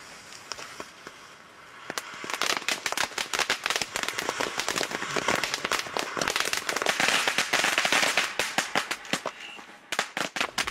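Fireworks crackle in a dense, continuous volley of sharp pops and snaps that swells to a loud peak before thinning out near the end.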